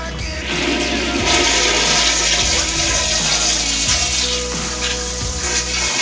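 An old toilet flushes in a restaurant men's restroom, a loud, steady rush of swirling water lasting several seconds, heard up close with no talking.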